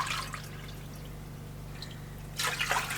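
Broth pours into a pot for cooking rice: a short splash of liquid at the start, a quiet pause, then a louder, steady stream of pouring near the end.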